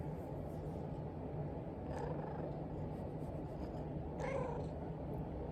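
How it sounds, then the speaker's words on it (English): A cat named Bear, also called Astro, gives two faint meows over a steady low rumbling background, likely purring, heard close by. "So yeah, that's my one cat."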